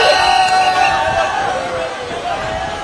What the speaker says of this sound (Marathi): मोठ्या संख्येने इथं गर्दी झालेली आहे काहीशी